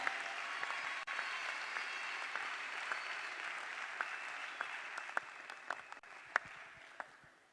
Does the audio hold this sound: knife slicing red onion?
no